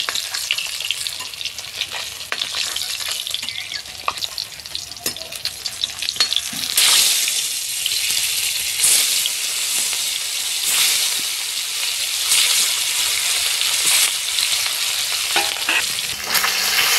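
Katla fish frying in hot oil in a village kitchen, a steady loud sizzle and crackle that swells partway through and carries on continuously with occasional stirring scrapes.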